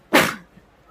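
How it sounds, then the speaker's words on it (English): A single sharp sneeze from a woman during a makeup session, one short burst close to the microphone that quickly fades to quiet. "I feel like I have to sneeze"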